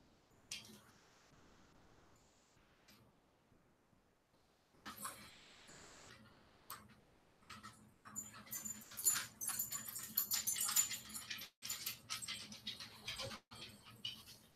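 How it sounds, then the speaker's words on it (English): Dogs cooped up indoors on a rainy day whine, yip and bark in bursts, quiet at first then growing more excited and louder, close by and without any talking. "The dogs have been stuck inside all day with the rain, and they're very wound up."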